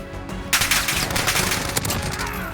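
Video game gunfire: after half a second of near quiet, loud rapid bursts of shots start and crackle continuously in a dense fusillade until the end.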